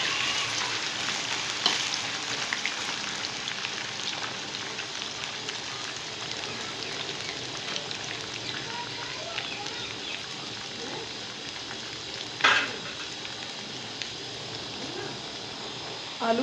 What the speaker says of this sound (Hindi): पहले जो हमारा तेल गरम है उसी में आलू फ्राई कर लेते हैं, ताकि आलू भी साथ साथ हमारे फ्राई हो जाएं।